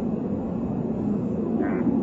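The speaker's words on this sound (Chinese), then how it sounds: "对，你这儿飞机声音很大。" Over a phone call, the drone of an airplane flying overhead keeps rumbling steadily at moderate loudness, alone and unbroken by speech.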